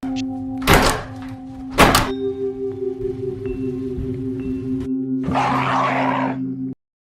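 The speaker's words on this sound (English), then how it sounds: "In the living area, the camera records Nana opening and slamming the basement door several times." A basement door in a film thuds heavily twice, then creaks with long groaning tones before a final rushing slam, loud and close, with a sustained hum beneath.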